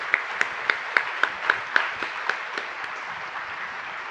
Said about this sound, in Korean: 우리 시온 찬양대 다시 한번 큰 박수 부탁드립니다